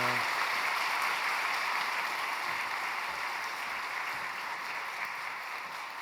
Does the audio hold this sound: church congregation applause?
yes